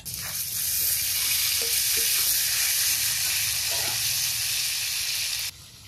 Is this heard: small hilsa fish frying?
yes